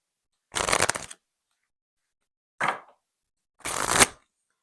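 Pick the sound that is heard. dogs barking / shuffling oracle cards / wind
shuffling oracle cards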